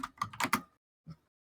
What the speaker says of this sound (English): look at me type my password into a chat.